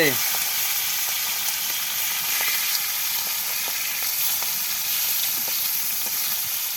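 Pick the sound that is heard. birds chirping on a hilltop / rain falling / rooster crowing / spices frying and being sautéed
spices frying and being sautéed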